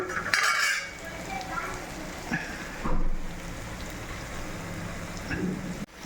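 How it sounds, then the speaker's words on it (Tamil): Gooseberry pickle sautés in a pan, with a soft frying sizzle beneath occasional clinks and scrapes of a utensil stirring against the metal, close up and fairly quiet. "இன்னும் கொஞ்சம் நேரம் வதங்கட்டும்"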